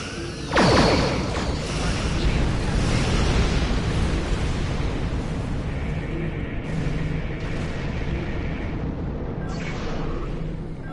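Weapons fire and explosions in the space game Star Trek Online: a sudden loud blast opens into sustained rumbling, crackling battle noise, with brief bursts and whooshes layered over it until the end.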